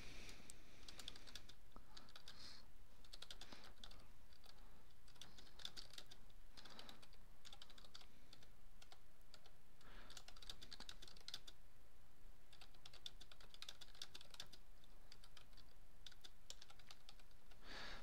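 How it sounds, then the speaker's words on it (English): Someone types on a computer keyboard, faint clusters of key clicks in irregular bursts with pauses between them, over a quiet steady background hum, with no talking. "So here I've typed in the question,"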